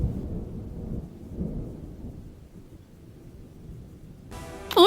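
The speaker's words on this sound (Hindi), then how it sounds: "एक दिन गांव में अचानक एक बड़ा तूफान आया, जिससे उसकी दुकान टूट गई।" Thunderstorm sound effect in a cartoon about a village storm: a low, continuous rumble of thunder and rain, steady and moderately loud, ending in a brief burst of bright chirping tones.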